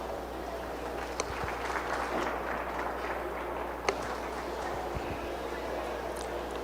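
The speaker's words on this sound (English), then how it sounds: "Let's give him a round of applause" Applause from the crowd at a county fair 4-H/FFA sheep showmanship ring, a steady wash of clapping heard at a distance against a low background hum, with a couple of sharper claps standing out.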